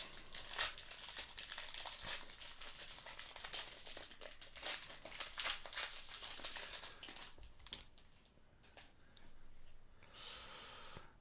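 Crinkly plastic foil of a thick 2022 Panini Prizm World Cup Qatar soccer card pack being torn and handled close up, a dense stretch of crackling and rustling that thins out near the end with a brief final burst.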